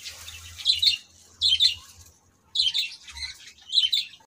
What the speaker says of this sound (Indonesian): Ini burung apa mas? Burung parkit.